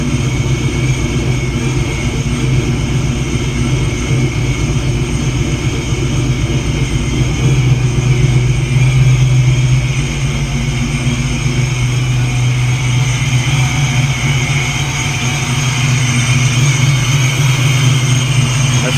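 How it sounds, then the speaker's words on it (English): A supercharged Ford 4.6 2V V8 runs loud and steady with a high supercharger whine over a deep engine drone, rising briefly as it revs up and settling back. "supercharger whine is nice"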